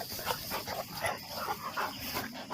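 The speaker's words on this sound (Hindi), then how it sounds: "देखिए ये कुत्ते कैसा मस्ती कर रहे हैं।" Several dogs playing together, giving a steady stream of close, excited yips, whines and soft growly barks that overlap continuously for a couple of seconds.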